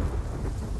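A video-game thunderstorm in Ghost of Tsushima: a low, continuous rumble of thunder with a steady wash of rain, loud and sustained throughout with no voices.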